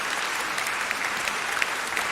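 Steady audience applause fills a debate hall at an entrance-exam debate, dense and even clapping from many hands at moderate volume, without speech.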